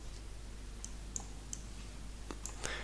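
A few soft, isolated keyboard key clicks sound while copying text in Word 2013, quiet and spaced out over a low steady hum, with a slightly louder cluster near the end.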